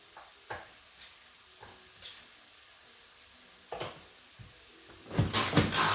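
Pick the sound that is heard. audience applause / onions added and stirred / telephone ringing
onions added and stirred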